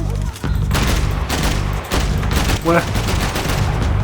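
Gunfire in the video game Max Payne 3 rattles in dense, loud bursts that fill most of the few seconds, with a brief pause midway and a short spoken exclamation over the shooting.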